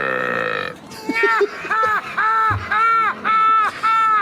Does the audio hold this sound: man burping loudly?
yes